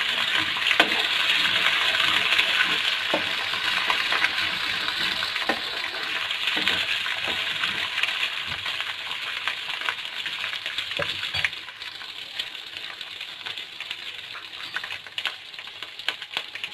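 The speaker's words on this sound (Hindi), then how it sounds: "इनको लाइट सा फ्राई करेंगे हम।" Whole spices and ginger garlic paste frying lightly in oil for beef pulao, a moderate sizzle with occasional clinks and stirring scrapes, fading somewhat toward the end, close and without talk.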